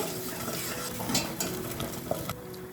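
Masala for an avarekalu dish fries over a medium flame while a spoon stirs it in the pan, a close, continuous sizzle with soft scraping strokes and occasional light clicks.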